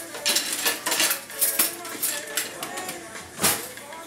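A metal utensil scrapes and clinks against a pan while garlic is stirred, a run of irregular close taps and scrapes, with a voice speaking intermittently.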